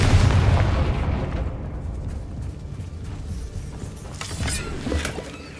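Confringo fire-blast spell cast in the Hogwarts Legacy video game. A loud booming blast opens, then a rumbling, crackling roar carries on with scattered pops and bursts.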